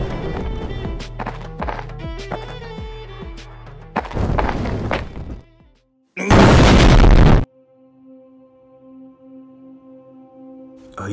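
A sudden, very loud explosion bursts out after a stretch of clattering, thumping action noise, then leaves a low lingering hum. The setting is a Black Panther and Killmonger action sequence.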